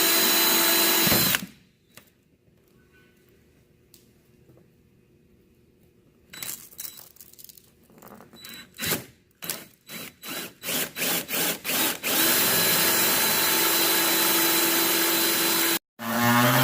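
A power drill fitted with a 2.5-inch hole saw cuts through panels on a Prowler Pro machine during a heater install, starting in short bursts and triggers and then running in a long, loud, steady grind.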